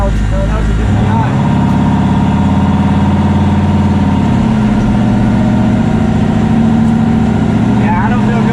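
A car engine hums steadily while driving on a morning ride, a loud, continuous low drone that runs without a break for the whole stretch.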